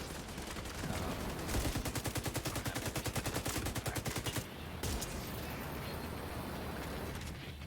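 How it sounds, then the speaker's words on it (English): Rapid bursts of automatic fire from a sniper turret in The Division 2, a steady, loud rattling run of shots for several seconds that breaks off, then a lone shot and a lingering noisy ambience. "It's a wonderful turret. Sounds great."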